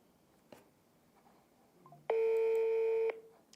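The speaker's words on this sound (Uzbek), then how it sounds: "Yana telefon qilib ko'ramiz." A telephone number is dialed on a handset, with a faint click, then a single loud, steady DTMF tone lasting about a second against a quiet background.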